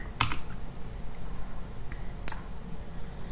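Two short bursts of clicky keystrokes on a computer keyboard as a terminal command is typed, close and distinct over a faint background hum.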